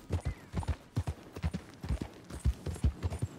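Horse hooves clip-clopping in the video game Red Dead Redemption 2, a steady trotting rhythm of close, clear hoofbeats with no talking over them.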